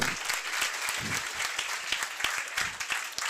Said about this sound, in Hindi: अजय सर के लिए एक बार जोरदार तालियां